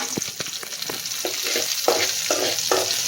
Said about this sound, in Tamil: நல்லா பொரிஞ்சுன்னு இருக்குது